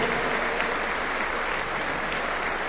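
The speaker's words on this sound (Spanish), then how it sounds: "pedirle a todos ustedes nada más que un fuerte aplauso" Steady, dense applause from a large crowd at a 2009 Kirchner campaign speech in José C. Paz, a loud continuous wash of clapping with no speech over it.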